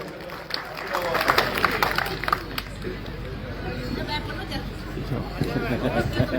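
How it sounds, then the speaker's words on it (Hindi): A crowd at a Gangaur festival closing celebration claps and cheers in a busy, continuous wash of applause and chatter, with a voice over a loudspeaker speaking above it. "अभी के लिए भी एक बार जोरदार ताली से बजा दो"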